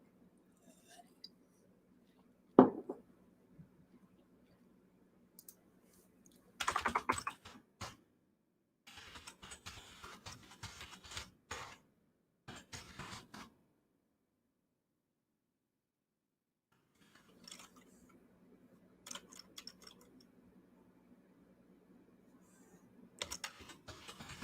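Computer keyboard typing comes in separate bursts of quick, close clicking with quiet gaps between them, over a faint low hum in the background.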